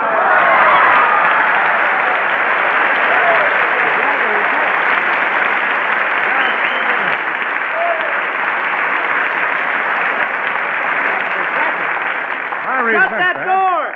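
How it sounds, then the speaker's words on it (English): Studio audience applause on a live radio comedy show, a dense sustained wash of clapping from a large crowd lasting the whole stretch, with a few scattered voices surfacing near the end. "That's where you're supposed to get the applause there."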